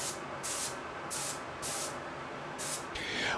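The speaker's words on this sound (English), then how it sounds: "I ended up spraying 2 coats of my Createx Autoborn white primer to get full coverage" Steady hiss of spray paint from a nearby can, released in several short bursts with brief pauses between them.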